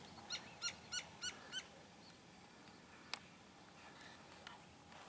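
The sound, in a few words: bird squawking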